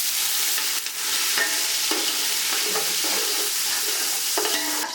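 Loud, continuous sizzling of onions and curry leaves frying in hot oil, close by, with occasional stirring scrapes and clinks; nobody speaks.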